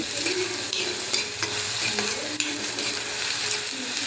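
Chopped onion sautéing with mustard seeds and cumin in hot oil, a steady sizzle broken by repeated stirring scrapes and light clinks of the utensil against the pan.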